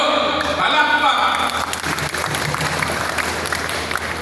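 Congregation applauding inside a Catholic church, a broad wash of clapping that follows a brief spoken call from the preacher and continues steadily to the end.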